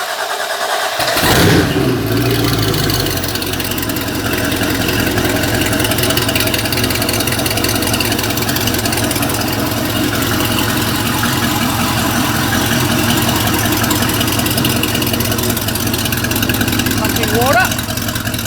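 A 350 Mag MPI V8 marine engine cranks and catches, then settles into a loud, steady rumbling idle that continues without a break.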